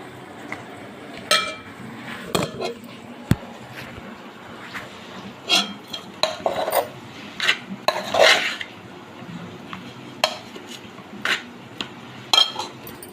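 Metal spoon scraping and clinking against a pan while stirring a puffed rice (burgula talimpu) mixture, with irregular close bursts of clatter and soft rustling between strokes.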